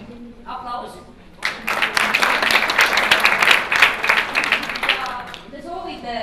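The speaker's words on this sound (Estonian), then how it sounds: "Aplaus!" An audience at a forum theatre performance in Tartu breaks into a burst of dense clapping lasting a few seconds, with a voice speaking just before and after it.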